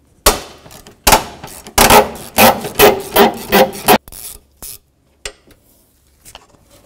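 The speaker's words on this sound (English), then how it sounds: "we're gonna take the nut off the top, and that's a 15mm, and I'm gonna break it free." Ratcheting and rasping bursts from a socket wrench breaking free the 15mm top nut on a 1984-2001 Jeep Cherokee engine mount, several close, loud strokes in quick rhythm, then a few fainter clicks and quiet.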